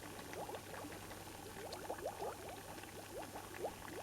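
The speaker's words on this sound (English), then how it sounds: "So the acid loop sounds like this." Looping acid bubbling effect from the video game The Explorer: 3D Game Kit, a continuous low bubbling like boiling liquid with quick rising blips popping up irregularly over a steady hum.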